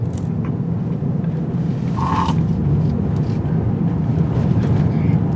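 A 2022 Toyota Corolla Apex on the road through a turning circle, its engine and tire noise a steady, loud drone with continuous rumble and some wind buffeting, carried throughout with no break.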